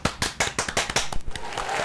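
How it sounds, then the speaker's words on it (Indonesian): Audience members at a bank branch event clap together in a loud, uneven burst of hand claps that thins out toward the end, with no speech over it. "Tepuk tangan dulu dong semuanya."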